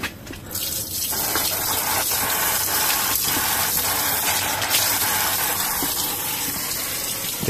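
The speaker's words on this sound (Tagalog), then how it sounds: "Igib po tayo ng tubig para may inumin po tayo sa taas." Water gushes steadily from a tap while water is fetched in a storeroom, a continuous loud broadband rush with faint clicks and knocks underneath.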